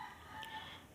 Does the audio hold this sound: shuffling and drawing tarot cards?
no